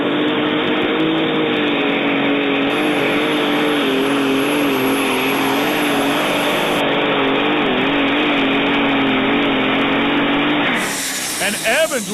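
A pulling tractor roars at full throttle while it drags a weighted sled down the track, its engine loud and sustained for several seconds before it cuts back, with an announcer talking over the noise.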